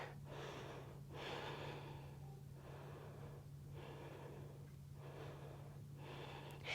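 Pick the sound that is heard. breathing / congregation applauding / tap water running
breathing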